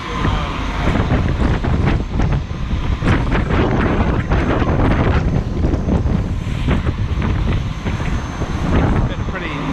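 Strong southwest wind buffets the microphone during a choppy boat crossing toward Stewart Island, with water slapping and the boat's rumble underneath, loud and continuous throughout.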